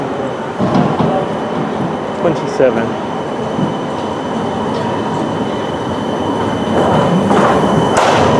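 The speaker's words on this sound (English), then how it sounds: "Here comes my tram." A tram arrives in Birmingham at Christmas, a continuous rolling rumble with occasional squeals and clicks from the rails, fairly loud and close, with a person speaking over it.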